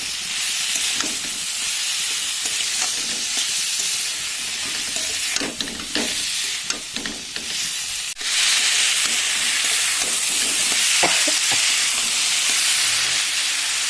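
Jackfruit frying with salt and turmeric in a pan, a continuous close sizzle and hiss with irregular spatula scrapes and stirring knocks, briefly dipping before the frying noise swells again.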